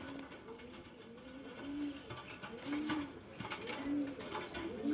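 Teddy and golden pigeons coo close by in a repeated series of soft, low, throaty calls that swell and fade over a light background hiss.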